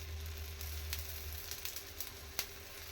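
Oil sizzles steadily around methi thalipeeth frying on a pan, a continuous close crackle with a few sharper pops and spits breaking through.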